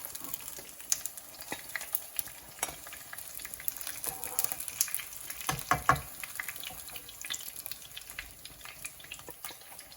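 Fish frying in hot oil for fish biran, a faint, steady crackling sizzle with scattered small pops and a brief scrape near the middle.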